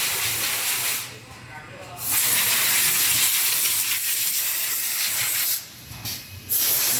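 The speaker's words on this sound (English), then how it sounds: "the clamp will clamp the stick and fix it" Pneumatic clamp on a wood stick and wood disc screw assembly machine, giving long loud bursts of hissing air separated by brief quieter gaps, with a voice speaking during the clip.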